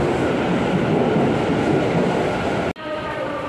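Kyuko express train running on a Tokyo metro line, a loud continuous rumble of wheels and carriage noise heard from inside, with a brief dropout near the end before the steady roar resumes.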